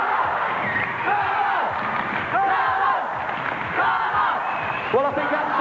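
A large crowd at a 1987 BMX competition final cheers and shouts loudly and continuously, with individual yells rising above the roar.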